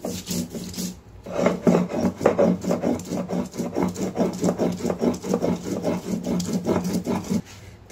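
Shola kochu (taro) is ground dry into a paste with a steady, rhythmic rasping scrape, stroke after stroke at an even pace, close and alone after a brief pause near the start.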